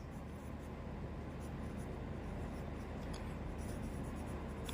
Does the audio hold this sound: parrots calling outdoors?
no